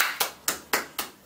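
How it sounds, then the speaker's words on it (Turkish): Four sharp hand claps ring out in a quick, even rhythm, close and fairly loud, a short burst of applause for a child during a guessing game at home. "Alkışlıyoruz Beyazıt."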